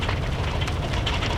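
Spacecraft reentry in a video game, rendered as a crackling, campfire-like sound resembling burning wood: a dense, continuous, fairly loud crackle with scattered pops.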